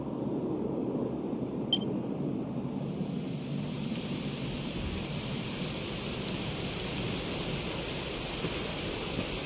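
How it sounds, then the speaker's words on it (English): Steady rainfall in the Dragon Quest XI video game, an even wash of falling rain running unbroken throughout at moderate level, with no voices. "it was raining like this the last time I ever saw her."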